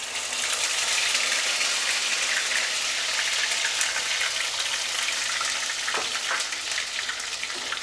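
Onion paste frying in a mix of hot oil and ghee, giving a steady, close, dense sizzle that runs unbroken throughout with no voices.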